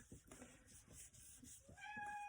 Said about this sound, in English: Ah, that's my cat.